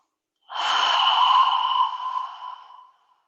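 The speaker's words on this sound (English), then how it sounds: "So take a deep breath in through the nose. And then open the mouth, exhale." A single long, deep exhale through an open mouth during a guided yoga breathing session, a breathy whoosh lasting about two and a half seconds that starts strongly and fades gradually, heard close and alone with no talking.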